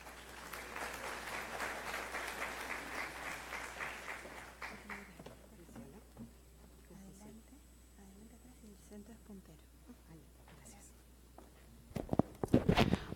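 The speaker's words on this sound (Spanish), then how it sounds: "La recibimos con un fuerte aplauso." Loud audience applause welcoming a speaker at a labour inspection and ISO 45001 seminar, a dense burst of clapping over the first few seconds that fades out, followed by quiet shuffling, footsteps and handling noise before a sharp clatter near the end.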